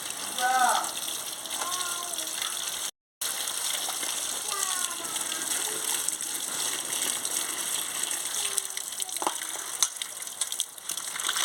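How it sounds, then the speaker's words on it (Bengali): Cut potatoes and ridge gourd rinsed by hand in a bowl of water, a continuous splashing and gushing with light clinks and a voice talking over it. "আলু আর ঝিঙেটা কাটা হয়ে গেছে, আমি ধুয়ে নিচ্ছি।"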